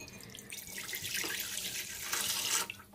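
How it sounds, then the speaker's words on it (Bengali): Water pours steadily into a kadai (wok) on the stove to cook raw jackfruit curry, a continuous close splashing stream that grows brighter and louder toward the end before stopping abruptly. "এর মধ্যে দিয়ে দিচ্ছি পরিমাণ মতো পানি"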